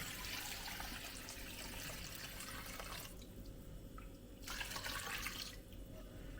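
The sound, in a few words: pouring thin coconut milk into pan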